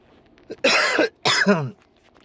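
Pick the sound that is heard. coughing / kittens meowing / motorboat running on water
coughing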